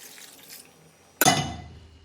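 Water splashes suddenly into a pot of gnocchi soup, a sharp loud pour that settles into gurgling after a quiet lead-in.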